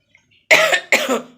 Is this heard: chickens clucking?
no